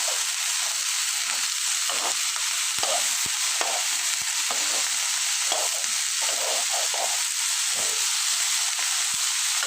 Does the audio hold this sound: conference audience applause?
no